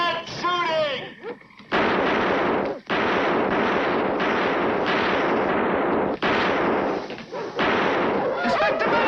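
Sustained gunfire from a low-budget sci-fi mutant invasion film, a dense, loud roar of shooting that runs almost nonstop for several seconds with a few brief breaks, after a short voice at the start and before another at the end.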